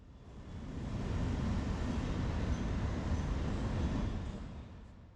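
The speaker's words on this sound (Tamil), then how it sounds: "மதியம் சுமார் 1:30 மணிக்கு ட்ராக் இன்ஸ்பெக்ஷன் ட்ராலி சோதனை ஓட்டம் வெற்றிகரமாக நடத்தப்பட்டது" A metro track inspection trolley on a trial run between Velachery and St Thomas Mount rumbles past, its low mechanical roar swelling, holding steady, then fading away.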